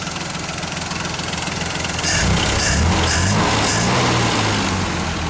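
A carbureted engine, refitted with a size 48 main jet in place of the 56 and puffing a little smoke, chugs at a steady idle, growing louder after a couple of seconds with a slightly knocking rumble and no voices.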